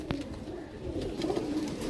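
Pigeons coo softly in a low, continuous murmur from a nearby coop, with a faint short knock near the start and no talking.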